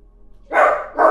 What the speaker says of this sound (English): Please ignore my dog Leon in the background. He is probably barking at an Amazon package